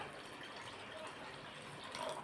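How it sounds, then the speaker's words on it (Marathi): Water is poured into a steel pot holding jaggery, a steady close splashing fill that runs evenly throughout without any voices. "हा गुळ आपण या स्टीलच्या पातेल्यामध्ये टाकला आहे यामध्ये पाणी टाकायचं"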